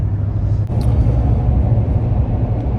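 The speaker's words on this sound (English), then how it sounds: "I feel like I'm hearing more than just exhaust noise this time" Exhaust from a Toyota Tundra TRD pickup fitted with an airflow accelerator: a steady, loud low rumble that holds evenly throughout, with no talk over it.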